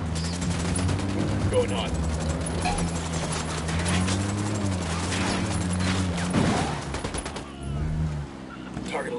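Sustained gunfire in the tactical shooter Ghost Recon Wildlands, dense bursts and fusillades running throughout under steady game music, with voices talking over the shooting.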